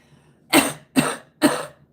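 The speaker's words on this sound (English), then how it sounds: "You got to cough with a purpose" Three sharp, forceful coughs, evenly spaced and close by, with silence between them.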